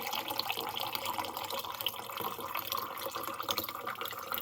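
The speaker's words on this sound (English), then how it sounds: "filtered water comes out of the bottom" Filtered water from a Berkey filter pours steadily into a glass, a soft, continuous trickling splash with faint bubbling, quiet and close, with no voices over it.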